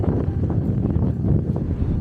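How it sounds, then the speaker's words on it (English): Strong wind buffets the microphone in a constant low roar, gusting steadily throughout with no other sounds coming through. "Ooh, it's very windy."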